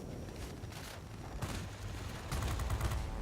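An A6M3 fighter plane's machine guns firing in the Warplanes game, a continuous rapid rattling burst over the roar of the aircraft, close and steady, getting louder toward the end.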